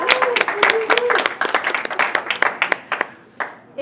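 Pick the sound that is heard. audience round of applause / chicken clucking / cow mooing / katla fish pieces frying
audience round of applause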